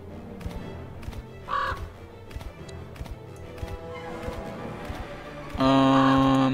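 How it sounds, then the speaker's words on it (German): A red raven in the fantasy video game Lords of Xulima gives a harsh caw, then a louder, longer call near the end, over game clip-clop steps and tapping, no talking. "Das ist ein roter Rabe."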